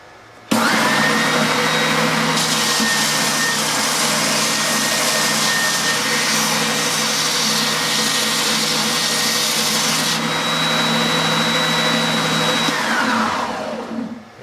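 Triton TSPST450 3.5A oscillating spindle and belt sander running with about an 80-grit belt on a piece of wood, a loud steady motor whine and abrasive roar that holds level for about thirteen seconds before spinning down.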